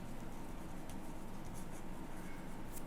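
Writing a Process B account on paper or board, with a soft continuous scratching at close range, steady and faint, with a few lighter strokes and no talk.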